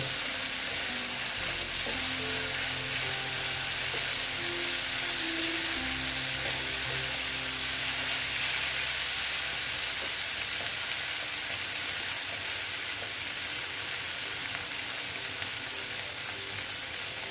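Tangra fish fry with spices in a pan, a loud continuous hiss and crackle of hot oil held steady throughout, with low stirring bumps and scraping early on; no speech.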